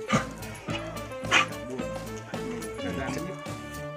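A red-coated dog barks repeatedly in a steady series of sharp, fairly close barks with some yips, while people talk in the background.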